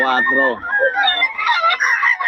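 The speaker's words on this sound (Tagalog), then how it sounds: "Manok ni boss Ga" A rooster crows loudly and close by, a long strained call followed by further raspy crowing and clucking.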